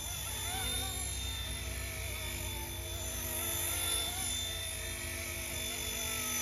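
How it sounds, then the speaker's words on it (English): An RC ERA C189 MD500 scale helicopter in camouflage flies continuously, its rotor and motor producing a steady whine with a constant tonal hum that stays fairly faint and distant. "it's a scale helicopter, so there's not much more than just flying around"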